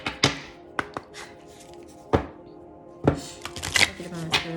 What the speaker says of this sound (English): let me go ahead and shuffle these cards real quick.